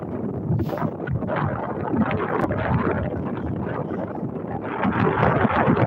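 Steady outdoor wind buffets the microphone in a continuous broadband rumble, loud and unbroken for the whole stretch, with no voices over it.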